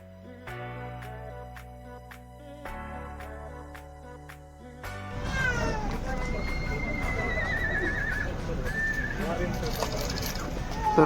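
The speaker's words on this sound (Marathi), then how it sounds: "हे बघा हॉर्स दिसतील तुम्हाला." Horses at the snowy hill resort of Kufri in Himachal Pradesh, heard outdoors in cold weather with shrill whinnies and a busy background of hooves and crowd noise, after a calmer opening stretch with steady tones.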